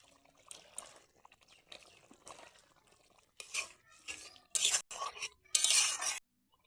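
Ground paste of fried cumin, dried red chilli and fresh ginger going into a bubbling curry of wild chicken with mankochu, heard as soft stirring and scraping in a pot, then louder wet clattering bursts near the end, with no talk.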